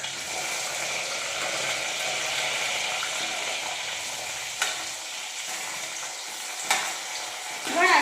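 Sweet potatoes drop into a hot pan of oil and fry with a steady, continuous sizzle, moderately close, with a couple of sharp utensil clicks near the end.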